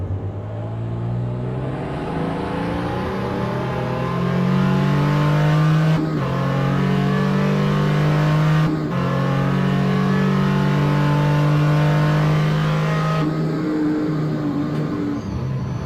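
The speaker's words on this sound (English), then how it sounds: "On board with JT Tammy in the number 55 Porsche 935 K3." Porsche 935 K3 race car in a racing video game at Mid-Ohio, its engine droning loud and steady on board, pitch rising through the gears with brief drops at shifts, no voices.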